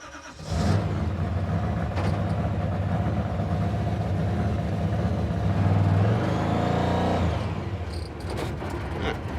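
Car engine with a sticking throttle and a worn-out return spring, idling much too fast in a steady, loud high-rpm drone that rises slightly in the middle, then settles briefly before continuing.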